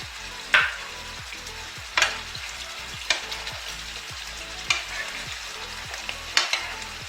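A spoonful of white vinegar hits shrimp frying with pineapple, and a steady sizzle carries under repeated stirring scrapes that land every second or so, close and moderately loud.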